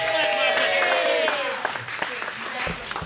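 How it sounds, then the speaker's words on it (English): A crowd at a hearse show applauds the second-place runner-up. A voice talks at first, then scattered, fairly close clapping takes over and carries on under a little chatter. "Let's give her a big round of applause there"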